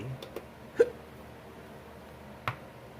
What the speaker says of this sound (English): This might be a long video with the hiccups.